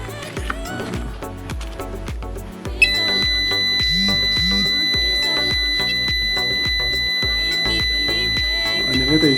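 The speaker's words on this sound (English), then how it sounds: "when the vehicle is detected and then it's an approaching vehicle, it shows, it alarms" An Arduino anti-collision alarm for a blind road bend sounds a steady high-pitched continuous tone once a vehicle is detected, starting abruptly and holding for several seconds over clattering background noise and a voice.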